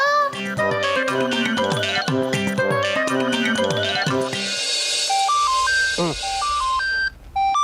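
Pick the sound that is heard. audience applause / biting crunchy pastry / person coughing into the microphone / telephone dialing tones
telephone dialing tones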